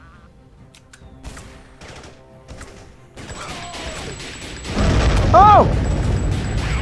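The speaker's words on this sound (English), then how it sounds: "Look at that rocket!" A rocket in the VR shooter Battle X roars in loud and close partway through, a sustained blast with whistling tones layered over ongoing game noise, after a person's brief exclamation.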